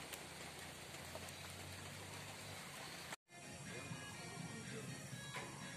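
Light drizzle patters steadily over a busy fishing pond, a soft continuous hiss of fine raindrops with a brief cut partway through.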